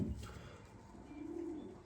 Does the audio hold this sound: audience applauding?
no